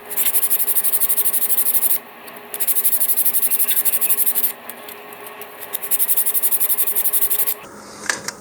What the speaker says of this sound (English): I'm going to 150 grit to give a smoother finish here.